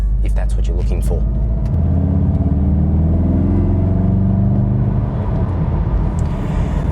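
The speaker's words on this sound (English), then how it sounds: "So the exhaust note isn't necessarily earth-shattering or ear-shattering, and probably lacks a little bit of punch" A car in sport mode gives a loud, close exhaust note that rises in pitch as it accelerates, a throaty rumbling drone with a brief lift near the end.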